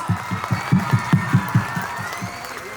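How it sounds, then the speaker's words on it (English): An audience at a school annual day claps for top students, a rhythmic run of fairly close hand claps over a murmuring crowd, fading toward the end. "Give them a big round of applause."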